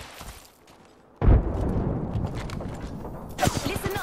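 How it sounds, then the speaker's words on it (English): Video game gunfire in a shooter with shields and frag grenades, a sudden loud volley that becomes sustained rapid shooting and rumble, swelling again near the end. "The enemies are shooting at me."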